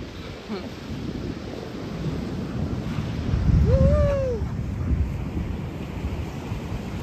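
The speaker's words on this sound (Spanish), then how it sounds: "Pues esta es Playa Mahahual. En la costa de Oaxaca." Ocean surf and wind at Playa Mahahual, a quiet undeveloped beach on the Oaxaca coast of Mexico, roaring steadily with a swell of breaking waves near the middle and a faint high tonal cry briefly rising above the wash.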